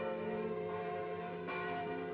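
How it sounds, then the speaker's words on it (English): Church bells ring with rich, sustained overlapping tones, a new strike landing partway through as the resonance hangs in the air. "the bells were ringing"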